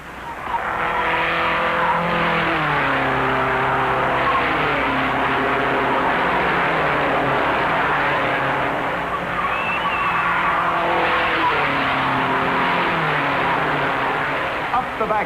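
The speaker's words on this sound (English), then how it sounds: "Speed moves to 142 miles an hour, with 3 cars maneuvering through the turn inches apart." Race cars roar around the track at the 1956 Indianapolis 500, a loud continuous engine drone with shifting pitch as several cars run through a turn close together, under steady commentary.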